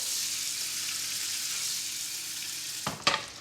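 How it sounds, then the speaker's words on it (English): A knob of butter sizzles steadily in a hot pan while cooking breadcrumbs and dill, the frying hiss steady and close, ending with a brief clatter as food is moved. "Bring the heat up into the pan. A nice little knob of butter."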